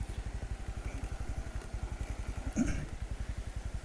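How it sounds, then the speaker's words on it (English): A Honda Super Cub motorcycle chugs over a small bridge, its single-cylinder engine thumping in an even, rapid pulse up close, with a brief clunk partway through. "Yay, we're doing a Super Cub water crossing."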